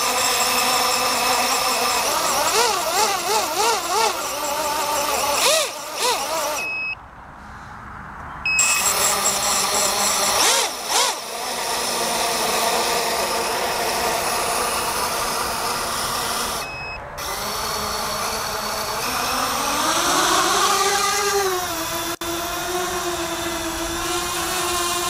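A miniquad drone flying on 5-inch bullnose props, its motors making a loud, continuous high-pitched whine that surges and wavers, with brief dropouts and a shaky, sputtering motor.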